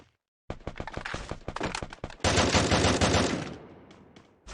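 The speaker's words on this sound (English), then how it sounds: "Gunshots right here." Free Fire battle royale gunfire: a run of separate close shots gives way to a dense, loud automatic burst that slowly tapers off, with a lone shot at the very end.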